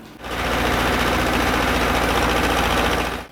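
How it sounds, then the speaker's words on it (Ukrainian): A tractor clears the rows between young trees in a forest plantation, its engine giving a loud, steady, close-up drone with a fast rattle and no speech over it. "Ліс, якому 5 років і більше, обробляють іншим трактором."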